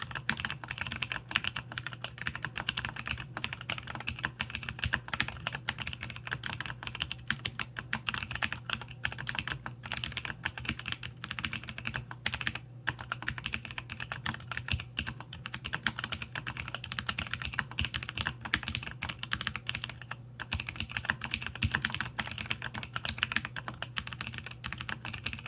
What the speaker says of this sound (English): So this has polias in it, which actually sound pretty good.